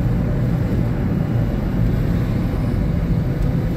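An Arrma Kraton 8S RC car drives fast outdoors at DW Fields in Brockton, giving a steady, loud, rushing motor drone with broad wind-like noise that holds throughout, no talking over it.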